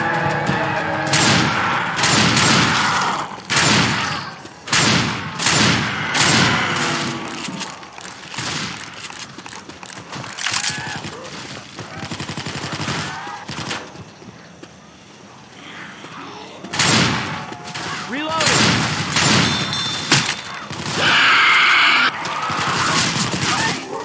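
Rapid gunfire bursts and crashing impacts from a first-person shooter video game set in a white forest, loud and repeated in clusters with a brief lull midway, with excited voices talking over the action.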